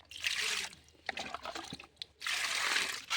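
Hilsa fish being washed and scrubbed by hand in water, with two longer bursts of splashing and trickling at the start and end around softer handling noises in between, close and moderately loud.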